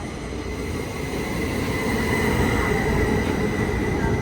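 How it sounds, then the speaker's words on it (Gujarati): A suspended, upside-down hanging train pulls in at a station in Germany, its rumble and a high, sustained mechanical whine building steadily louder over a few seconds as it draws near. There is no talking. "તો ગાડી આવી ગઈ છે,"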